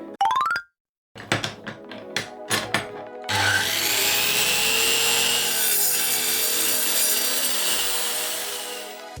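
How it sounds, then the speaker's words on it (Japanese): An M6 bolt being sawn off at about three centimetres, starting with a few separate clunks and taps, then a continuous close, rasping saw stroke that runs for several seconds. "M6 のボルト、3センチぐらいかなで今切りました"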